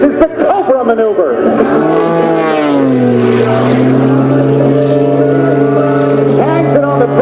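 At a 2016 naval air station air show, an MXS-RH aerobatic propeller airplane flies a Cobra maneuver. Its loud engine drones steadily, dipping sharply in pitch as the plane rolls upright, then settles into a sustained hum and rises again near the end.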